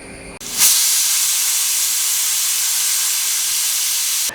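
A pressure cooker holding aviyal vegetables vents its steam after one whistle: a brief clunk, then a loud, close, steady hiss that runs on unbroken for about four seconds.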